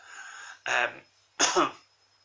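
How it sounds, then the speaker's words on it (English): Two separate heavy coughs from a nearby person, each a loud harsh burst about half a second long, separated by a short pause, with quiet room tone in between. "Sorry, big cough."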